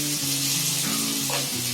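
Ginger, onion, garlic, tomato and green chili sizzle steadily as they fry in a pan, a close, continuous crackle with a low hum underneath.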